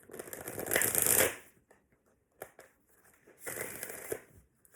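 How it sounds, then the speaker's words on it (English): A deck of tarot cards being riffled and shuffled in two quick bursts, crisp and close, with a short pause and faint handling noises between. "one more shuffle."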